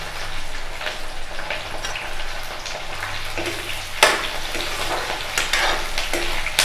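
Chopped onions frying in a pan of hot oil for an Assamese meat curry, a steady close sizzle with stirring scrapes and a couple of louder spatters.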